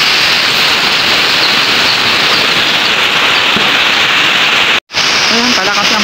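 Typhoon downpour in Isabela, a loud, dense hiss of heavy rain and wind that holds steady, cuts out for a brief moment near the end, then returns at full strength.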